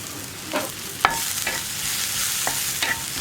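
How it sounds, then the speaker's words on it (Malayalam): Green chillies sizzle in a pan for a Kerala-style mackerel fish curry, a soft steady frying hiss broken by a few scrapes and clicks of stirring. "ഇനി പച്ചമുളകും കൂടി ഒന്ന് വഴറ്റിയെടുക്കുക."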